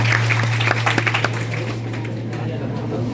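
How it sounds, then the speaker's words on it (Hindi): A hall audience at a college quiz competition gives a short burst of clapping that fades within about two seconds, with a voice talking over it. "ताली बजाएं आप लोग"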